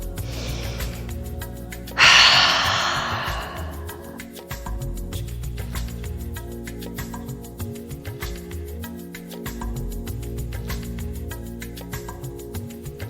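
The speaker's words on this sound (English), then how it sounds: "Big inhales, loud exhales." Deep meditative breathing with one big, loud breath that swells and fades, set over a steady bed of soft ambient music.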